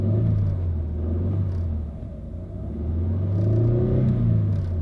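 A car engine that is running poorly drones as a loud, steady low rumble, dipping briefly midway and then rising again as it is revved, with no talking.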